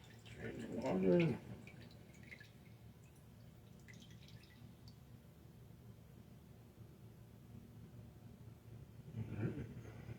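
Water drips and drains while microfilm for indoor free flight model aircraft is poured, with a louder splashing burst near the start and another near the end over a steady low background hum.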